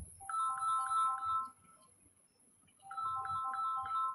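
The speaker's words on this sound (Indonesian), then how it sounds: "ini HP saya ada telepon" A mobile phone ringtone from an incoming call plays a bright, repeating electronic melody in two bursts with a short gap between them, loud and close, without speech.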